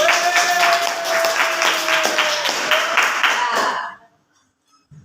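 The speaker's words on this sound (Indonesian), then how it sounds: "Ada beri tepuk tangan ke kelompoknya Rafli" A classroom audience claps for Rafli's group, a dense burst of applause lasting about four seconds before stopping abruptly, with a voice talking over the clapping.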